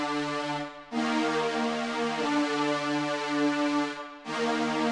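Reverb-washed synth melody, a sustained harmonic lead playing a looping phrase whose notes blur and tail off into the gaps, fairly loud and alone without any speech.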